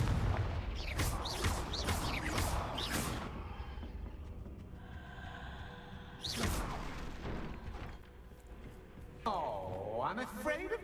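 A Confringo fire spell goes off in the Hogwarts Legacy video game as an explosive blast with a booming whoosh, set among other loud combat effects and game music, and someone talks over parts of it.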